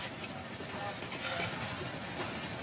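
Steady rumbling noise of a moving passenger train with a faint hiss, continuous and moderately loud, with a voice faintly underneath.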